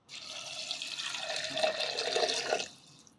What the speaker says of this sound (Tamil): தேவையான அளவு தண்ணி சேர்த்துக்கலாம்